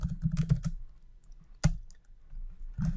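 Close computer keyboard typing while entering Python if-else code: a quick burst of key clicks, a single sharp keystroke, then another short run of keys, with no talking.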